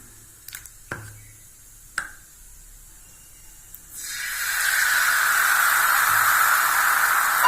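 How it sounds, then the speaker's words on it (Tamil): Wheat vegetable dosa batter hitting a hot ghee-greased griddle: after a few faint clicks, a loud, steady sizzling hiss starts abruptly and keeps going close up with no talking. "வாங்க இப்போ தோசை கல்ல நெய் போட்டு ஊற்றிடலாம்."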